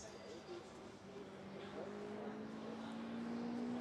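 A blue BMW M6 race car at a 24-hour endurance race warm-up, its engine tone rising steadily as it approaches and grows louder, under commentary.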